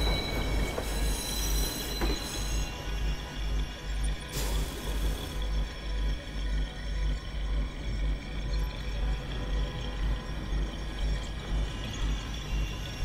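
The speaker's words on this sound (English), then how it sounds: "Southbound train arriving shortly." Train rolling through a station in the video game Watch Dogs, a steady rumbling roll with rhythmic wheel clatter and brief metallic squeals, continuous and fairly close throughout.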